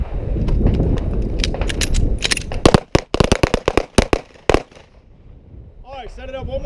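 Pistol shots fired at a target during a defensive pistol drill: a fast run of many sharp, loud cracks over background noise, followed by a voice speaking.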